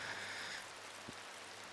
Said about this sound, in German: Hört den Regen, wie er tröpfelt.